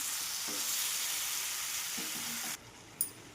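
Brinjal (eggplant) pieces frying in oil in a pan for a Marathi-style vangyachi bhaji, a steady soft sizzle that cuts off abruptly, followed by a single light clink.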